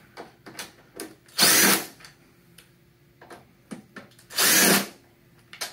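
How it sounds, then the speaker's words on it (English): A power drill backs out the screws on the underside of a DAB EsyBox water pump, giving two loud, sustained whirring bursts separated by quieter clicks and handling taps. "there's two screws that we need to remove on the bottom of the actual pump"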